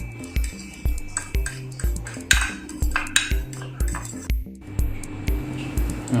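Scrambled egg mixture being stirred in a bowl for the microwave, a utensil clinking rhythmically against the bowl in quick repeated strokes, close and fairly quiet.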